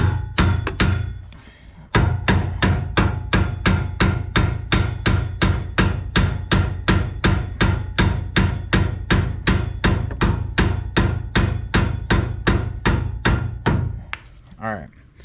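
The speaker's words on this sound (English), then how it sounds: "I'm not too worried about banging the heck out of this cap" Rapid, steady hammer blows strike a metal boat trailer hub cap dozens of times in a fast even rhythm, loud and close, after a brief opening burst.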